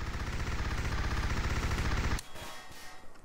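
Sustained rapid automatic gunfire in a Garry's Mod horror game, loud and continuous for about two seconds before cutting off abruptly into quieter scattered clatter.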